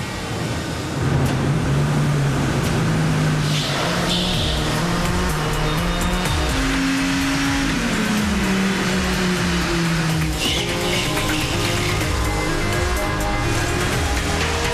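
A Dodge Viper engine runs loudly on the test rolls booth, its steady drone rising and falling in pitch as the car shifts through gears and revs, with no talk.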